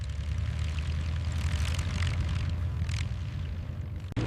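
A P-47 Thunderbolt propeller fighter's radial engine roars in a loud, steady low drone that holds for several seconds, with no voices over it.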